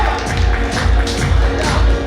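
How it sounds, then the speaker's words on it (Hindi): Loud, dense clapping from a large audience, steady throughout with a few cheers mixed in. "जोरदार तालियां हो जाए"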